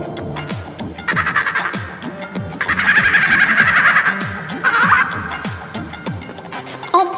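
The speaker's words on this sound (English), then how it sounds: "G for goat. Goat means bakri." Goat bleating in short wavering bursts, loud and close, repeated several times over a busy background of chirping birds and other animal calls.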